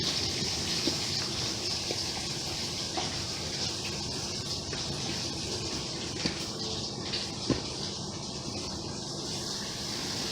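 Very warm water poured into a bowl of dry ingredients for bread dough, a soft steady gushing and trickling that runs through the whole stretch at low level, with a few small clinks and no talking.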